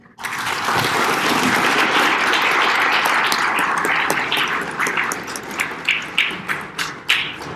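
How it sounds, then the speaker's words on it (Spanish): An audience at a health and education policy results presentation gives the panelists loud, sustained applause that thins toward the end into scattered individual claps. "¿Podemos darles un aplauso, por favor?"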